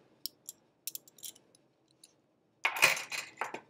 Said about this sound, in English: I'm gonna just trim that with the scissors that exist somewhere